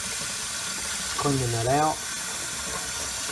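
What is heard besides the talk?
water spraying out of Kangertech Subtank Mini vent while cleaning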